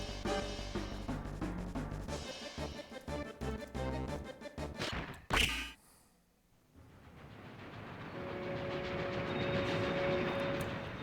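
A train in the video game Final Fantasy VII: clattering rail noise and heavy impacts build to a loud crash, drop to near silence, then swell into a steady rumbling roar.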